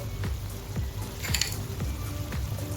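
Chopped ginger and green chilies fry in desi ghee in a pan with Turai and potato, a steady close sizzle broken by a few soft scraping stirs.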